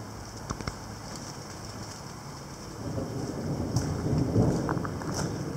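Low rolling thunder rumbles through a summer thunderstorm, swelling in the second half over a steady hiss of rain, distant rather than sharp.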